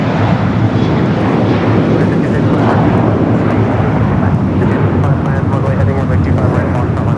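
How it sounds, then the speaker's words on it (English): Nippon Cargo Airlines Boeing 747-8 freighter arriving from Tokyo Narita at LAX, a loud, close, continuous jet rumble with buffeting wind noise and no distinct speech. "Nippon Cargo Airlines 108 coming in from Tokyo Narita, the 747-8 freighter, and here she is."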